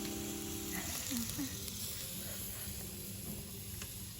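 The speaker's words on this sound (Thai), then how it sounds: "หมูกระทะครับ" Pork sizzles and hisses steadily on a hot Thai mookata barbecue grill in Ratchaburi, a close, continuous crackle with faint background voices.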